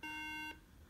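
A 2011 MacBook Pro with no memory installed gives a single electronic beep, steady and tonal, lasting about half a second before cutting off to quiet background hiss.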